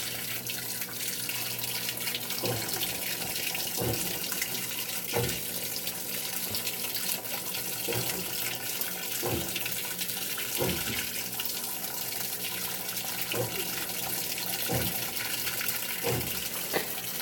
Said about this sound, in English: it'll dispense hot water from here.